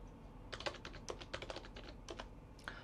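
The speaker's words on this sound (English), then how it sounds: "Put your fingers already on the keyboard, since you're gonna type three times your password." Rapid clicking of computer keyboard keys being typed, quick irregular taps close by over a low steady hum.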